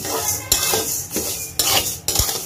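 Rice dry-roasts in a pan for a traditional roasted-rice flour, puffing up as it cooks. Four or five loud, close scraping stir strokes rasp across the pan with short pauses between them.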